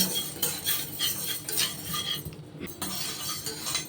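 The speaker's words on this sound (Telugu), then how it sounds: "బాగా వేయించుకుందాము మెంతులు కూడా మంచి కలర్ రావాలి" A utensil scrapes and clinks in a pan as fenugreek seeds are stirred and roasted, a close, busy rustle with repeated metallic strokes and no talking.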